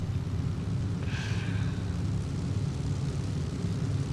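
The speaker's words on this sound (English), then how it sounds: "landing gear lowered, your pilot will now land at the airbase" Bomber aircraft touching down at an airbase in the Bomber Crew video game, a steady low engine drone throughout with a brief rushing hiss about a second in.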